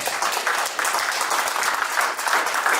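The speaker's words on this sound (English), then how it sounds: "Can we clap again for Ms." Audience applause at a charity gala, a dense, even roar of many hands clapping throughout, fairly close and continuous, with no talk over it.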